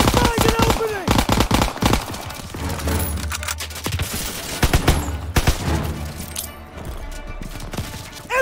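Bursts of machine gun fire echo through a World War II street battle in Call of Duty WW2, dense volleys and scattered shots rattling on and off while shouted voices call out amid the gunfire.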